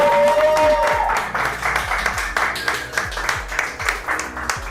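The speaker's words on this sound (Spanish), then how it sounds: "Un aplauso, por favor." A studio team claps and applauds to welcome a podcast guest, close and moderately loud at first, then thinning into scattered claps with a thumping beat underneath.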